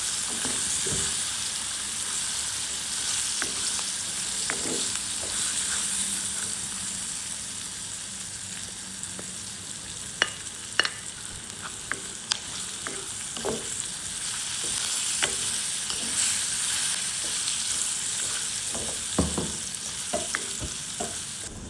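Chopped onions, chilies, pandan and curry leaves fry in a pan for a spicy fried anchovy dish, giving a steady close sizzle broken by sharp stirring clicks of a spoon against the pan.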